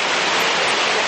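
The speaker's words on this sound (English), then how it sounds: "We're standing here by the waterfall, so it's kind of loud." A loud waterfall beside the Lazy River at Dollywood Splash Country roars as a dense, steady wash of noise filling the whole moment, close and unbroken.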